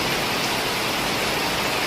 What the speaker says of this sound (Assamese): অলপ বৰষুণ দিছে